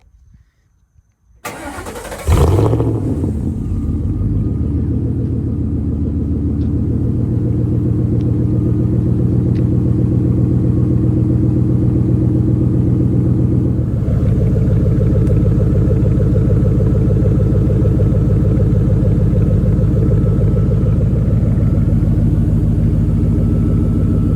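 A Ford F-150 pickup's 4.6 V8 with true dual exhaust cranks and fires up, then settles into a steady, deep, rumbling idle that continues loudly and close by.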